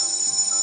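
A school bell rings in a Roblox escape school obby game, a steady sustained electronic ringing tone held without pause, loud and alone.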